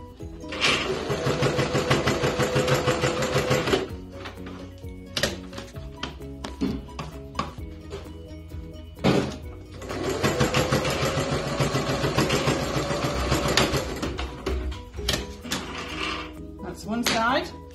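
A sewing machine stitches elastic onto a fabric face mask, running loud and close in two steady bursts of about four seconds each, separated by quieter pauses with faint handling noises.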